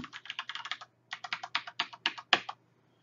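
Computer keyboard keys clatter in quick bursts as a password is typed, close and alone, with two short pauses between runs of keystrokes and a firmer final tap.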